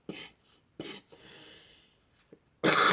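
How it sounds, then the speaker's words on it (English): Coughing from a person who has been sick for weeks, a few short raspy bursts spaced apart in a quiet room, with a louder, harsher burst at the end. "Yes, I still have a cough."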